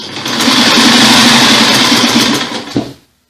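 A sewing machine stitches a skirt lining in one steady, loud, close run of fast mechanical whirring. It slows and stops near the end, and no one speaks.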